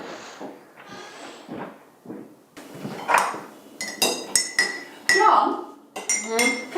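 Cups and cutlery clink repeatedly while tea is made, close, sharp chinks and rattles in irregular bursts, with voices talking underneath at first.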